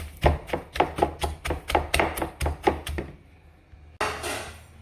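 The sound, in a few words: pounding seasoning cubes together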